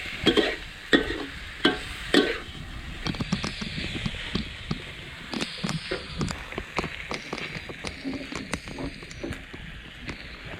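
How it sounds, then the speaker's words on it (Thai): Steady crackling sizzle of a large fish frying in hot oil, with scattered clinks and scraping of a utensil against the pan. "ตัวเดียวนะเนี่ยได้เต็มกระทะเลย"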